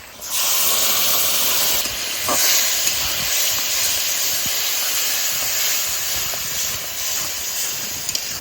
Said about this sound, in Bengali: পেঁয়াজটা বাদামি কালার হয়ে গেছে, এখন মশলাটা দিয়ে দেবো